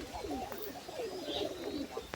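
Pigeons, a pair of domestic birds, coo in low, rolling, repeated phrases that carry on steadily and close by throughout.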